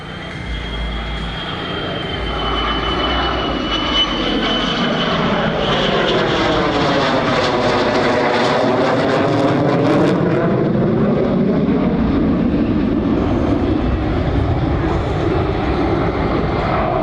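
An F-35B Lightning II jet hovers at an airshow with its rear nozzle pointed straight down. It gives a loud, continuous roar that holds steady throughout, with a slowly shifting engine whine rising and falling over it.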